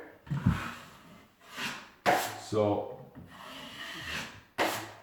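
Wood with a finish coat is sanded by hand in several separate bursts of gritty rubbing, each a second or two long, fairly close, with a brief spoken word in between.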